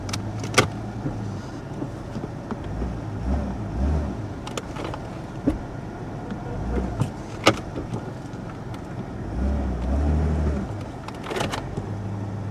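A lowrider Chevy 1500 pickup engine idles steadily nearby, a low continuous rumble punctuated by a few sharp clicks and knocks, with no one speaking over it.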